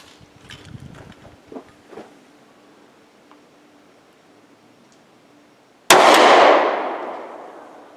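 A Luger P08 pistol fires a single sharp, loud shot outdoors, and the report rings out and decays over about two seconds. Faint handling clicks and rustles come before it.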